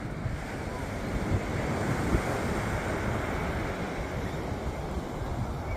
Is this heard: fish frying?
no